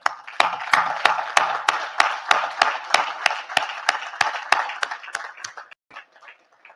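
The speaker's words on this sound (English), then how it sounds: "Let's have a round of applause for them." At the 2023 West Point graduation ceremony, applause for graduates' families comes through as a steady run of sharp, evenly spaced claps, fairly clear and close, that thin out and fade near the end.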